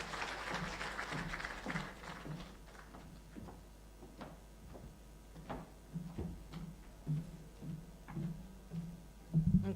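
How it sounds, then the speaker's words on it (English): Audience applause breaks out at the official opening of the Clean Cooking Energy Symposium, day 1: a broad wash of clapping that fades quickly and gives way to scattered ticks and knocks in the hall. "A round of applause."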